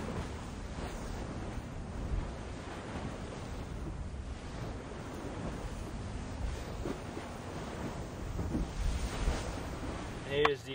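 A Volvo Ocean Race yacht sails the open ocean at sunset, with a steady wash of surf and wind rushing across the microphone throughout and a few louder splashes of water near the end.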